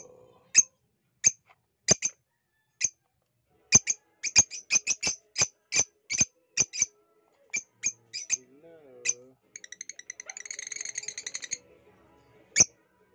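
Two pairs of African lovebirds give sharp, close chirps and squawks in irregular bursts with quiet gaps, ending in a rapid chattering trill and one final loud call.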